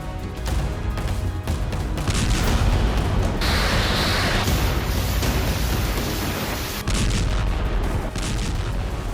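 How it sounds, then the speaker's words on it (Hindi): A powerful explosion in Kakhovka during the Russia-Ukraine war, heard as a loud sustained blast roar with rumbling booms and crackling debris, steady and dense throughout without any talk. "काखोव्का में जोरदार धमाका हुआ है"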